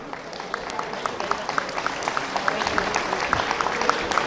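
Audience applause at a PTI lawyers' convention in Lahore, a dense, sustained crowd clapping that fills the whole stretch at steady loudness, with a few sharper claps standing out.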